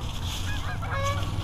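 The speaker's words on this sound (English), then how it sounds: "We have lots of geese out on the Ottawa River here, by this big park." Geese honk on the Ottawa River at a riverside park in Pembroke, Ontario, in early October, with several nasal calls overlapping at a moderate distance over outdoor background noise.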